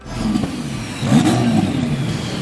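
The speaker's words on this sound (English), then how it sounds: "it has a twin turbo Lamborghini that shoots flames out its butt" A twin-turbo Lamborghini engine revs loudly and close, its note climbing in a surge partway through with a rough, throaty growl and no voices.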